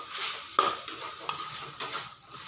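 Taro and prawns stir-fried in a pan, a steady sizzle broken by four rhythmic scraping strokes of a spatula against the metal, close and without talk.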